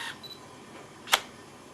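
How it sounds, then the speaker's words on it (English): A Canon EOS 450D digital SLR gives a single sharp, close mechanical clack of its mirror over quiet background hiss. A faint short tone comes just before it, and no one speaks. "When I pressed the button, the mirror flipped back down again in order to take an AF reading. And then you heard the double beep to confirm the autofocus"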